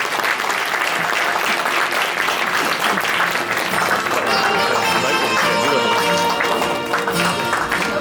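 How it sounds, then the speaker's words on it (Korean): A large audience bursts into loud, sustained applause to welcome a lecturer at a group seminar, a dense wall of clapping that fills the room steadily from start to finish. "강사님을 큰 박수로 모시겠습니다"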